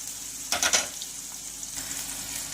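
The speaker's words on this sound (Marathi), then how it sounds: "गोल्डन फ्राय होईपर्यंत आपल्याला हा कांदा फ्राय करून घ्यायचा आहे।" Onion fries in a pan toward golden brown with a steady soft sizzle, marked early by a quick burst of louder spatter or stirring.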